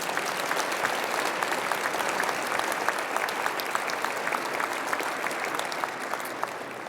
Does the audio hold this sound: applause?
yes